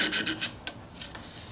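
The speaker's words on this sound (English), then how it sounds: "I can take my thumb and push down on the sandpaper and then just draw it out underneath my thumb" Sandpaper rubbing along the wooden tote of a handsaw being restored, drawn out from under a thumb in short, close, steady rasping strokes with no talk.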